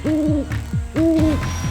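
An owl gives two hooting calls, each a wavering, rising-then-falling hoot, separated by a short pause. The calls are close, loud and clear over a steady outdoor background, with no speech.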